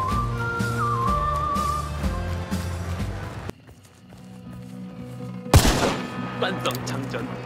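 Several gunshots ring out in the shooter Hunt: Showdown. Sharp reports come over a busy game mix with tonal music, then a brief lull, then a loud crack and clattering thuds.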